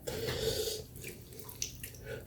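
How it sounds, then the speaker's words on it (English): Water from a bathroom sink is splashed by hand onto the face before a wet shave, a close, soft sloshing with brief trickles and small drips. "So let's get a little water on the face."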